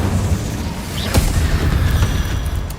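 A fire spell blast in Hogwarts Legacy: a single sharp burst near the one-second mark over a dense, loud rumbling game soundscape, with no speech.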